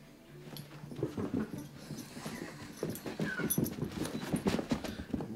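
Puppy running across the floor, a quick patter of claws and paws tapping and scrabbling close by, an irregular rhythm that grows busier toward the end, with faint whimpering and panting.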